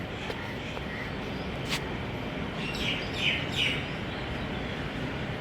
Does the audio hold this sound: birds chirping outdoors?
yes